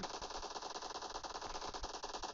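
Rapid automatic gunfire in a mobile shooter game, a fast continuous rattle of shots that runs the whole time at a steady rhythm and fairly low volume.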